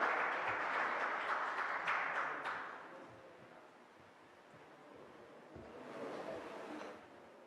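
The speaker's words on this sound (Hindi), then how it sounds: "जोरदार तालियां एक बार फिर से माधविका जी के लिए।" Audience applause for a para athlete at a televised regional event rises as a fairly loud wash in the first few seconds, then fades to a faint distant murmur with a brief swell later.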